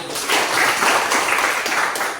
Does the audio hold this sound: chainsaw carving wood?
no